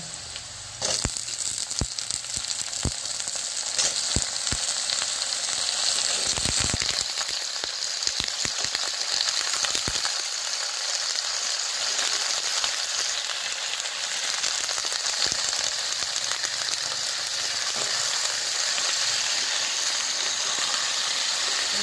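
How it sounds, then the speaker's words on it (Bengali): A steady, loud sizzle of potatoes frying in hot oil fills the whole stretch, with occasional clicks and scrapes of stirring in the pan. "এবার আলুটা একটু ভেজে নেবো"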